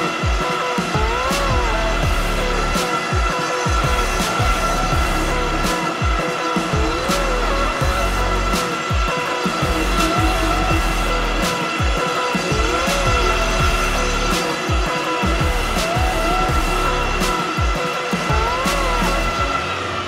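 An experimental rover's traction motors drive its wheels while it cycles through Ackerman and double Ackerman steering modes under joystick control, giving a steady, loud electric whine with rising and falling tones and frequent clunks and scrapes throughout.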